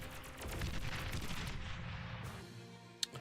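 Dual plasma cannons firing rapidly in a sci-fi video game, a dense, loud stream of overlapping blasts for about two seconds that then tails off, followed by one sharp click near the end.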